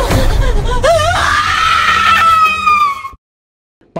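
A girl possessed in a horror film lets out a loud, drawn-out scream that rises and wavers for about three seconds, then cuts off abruptly into silence.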